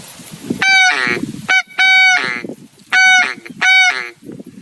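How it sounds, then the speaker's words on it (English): A DJ duck call blown in goose-like clucks sounds four loud, close, honking calls in an uneven rhythm, separated by short pauses. "I like to blow it quite sort of almost like a goose caller with that sort of cluck that they do"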